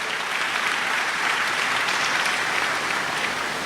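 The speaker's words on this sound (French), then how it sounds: "Nous applaudissons aussi nos pères vicaires." A church congregation at a parish Mass applauds its vicars, a steady, dense wash of clapping from many hands that holds evenly throughout without letting up.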